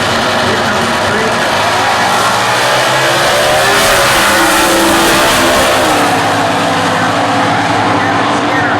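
Supercharged 302 Mustang Factory Stock drag cars launching at the US Nationals, a loud sustained engine roar climbing in pitch as they accelerate away, dense and continuous across the run.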